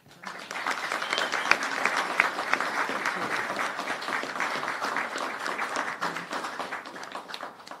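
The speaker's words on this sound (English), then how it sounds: "please give a hand of applause and welcome the governor." An audience at a bill signing and press conference breaks into steady, sustained applause to welcome the governor, many hands clapping together at moderate distance for several seconds before fading slightly.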